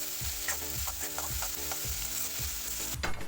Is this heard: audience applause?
no